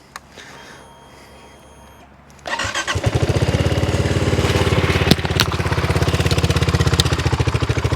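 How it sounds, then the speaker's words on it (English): A BSA Gold Star motorcycle is started: after a couple of seconds of quiet the engine fires and settles into a loud, steady, rapid thumping idle. "Let's start her up."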